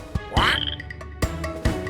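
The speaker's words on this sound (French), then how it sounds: "La grenouille, grenouille, grenouille." A frog croaks in short, close, fairly loud calls, a few separated bursts with one drawn-out rising call near the start, heard alone in a French children's song about animal sounds.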